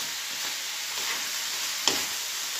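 Tomato sauce for chicken lasagna cooking in a pan, giving a steady soft sizzle and hiss with one brief clink partway through, no talking.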